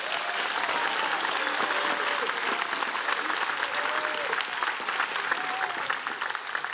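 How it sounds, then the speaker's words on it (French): Sustained, even applause from a theatre audience cheering 62 apprentices at a grand final, a thick continuous roar of clapping with faint voices over it throughout. "On peut les applaudir très, très fort"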